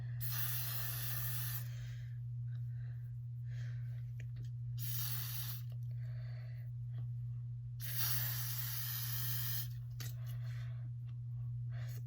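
Three long hissing bursts of aerosol freeze spray for hair, close and loud, separated by brief pauses over a steady low hum.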